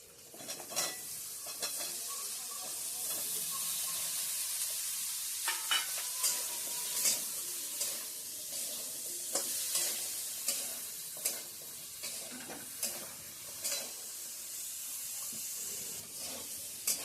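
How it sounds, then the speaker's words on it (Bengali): Potato and eggplant stir-fried in a pan sizzle under a continuous hiss, broken by repeated sharp scrapes and clicks of a spatula stirring the vegetables, close and fairly loud with no voices. "এবার এই সবজিটা একটু ভেজে নেব"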